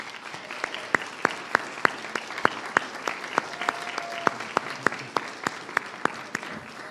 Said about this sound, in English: Let's give them a resounding round of applause.